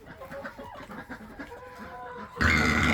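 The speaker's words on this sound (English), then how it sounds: "I got the chickens fed, and they only give me 4 eggs" Several egg-laying farm chickens cluck and murmur nearby at feeding time in a soft, uneven chatter, then a louder burst of squawking rises at the end.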